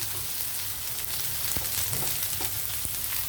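Pieces of spiny gourd fry in a pan with a steady, close crackling sizzle and a few sharp pops, continuous throughout with no talking.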